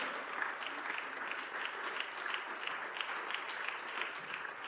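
Steady applause from a large church congregation, soft and somewhat distant, with an even rhythmic clapping pattern throughout.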